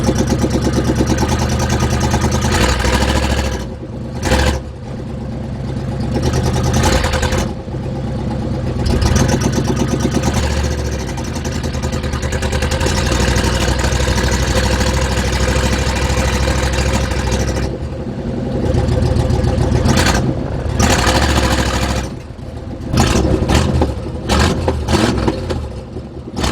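A tired car engine warms up, idling roughly with repeated revs that swell and drop, loud and close throughout, with brief dips and stutters where the idle falters.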